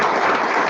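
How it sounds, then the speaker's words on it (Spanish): Audience applause for a doctor at the close of a medical lecture on gallstone disease in pregnancy, a dense, steady wash of clapping filling the whole brief moment with no voices over it. "un aplauso para el doctor"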